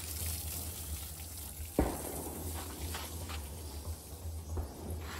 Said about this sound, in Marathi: इथे सगळं पाणी मारून घेतो आपण